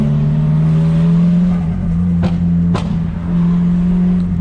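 A Nissan S15 with an exhaust leak scraped from repeated bottoming out, engine droning loud and close with a steady hum and a couple of sharp blips, no talking.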